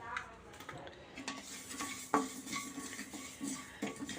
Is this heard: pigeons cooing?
no